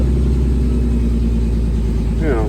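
A 2.8 engine runs loud and steady with a rough, pulsing low rumble, its pitch shifting slightly toward the end as it revs.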